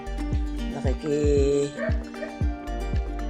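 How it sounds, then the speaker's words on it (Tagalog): A pet dog barks in short repeated bursts, several sharp yaps spread across a few seconds, fairly close, with some voiced whimpering mixed in during a home cooking session in a kitchen. "Kahol-kahol din siya."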